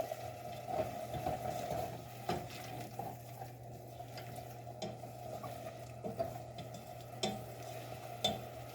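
Garlic sizzles in a simmering meatball sauce for subs, a soft, steady frying hiss broken by scattered clicks and scrapes of stirring in the pan.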